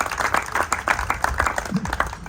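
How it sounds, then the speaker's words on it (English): Wedding guests clap in a lively round of applause, individual claps distinct and rhythmic rather than a smooth wash, suggesting a modest crowd indoors, steady and fairly loud throughout with a faint low voice murmuring underneath. "You can give yourself a round of applause if you want."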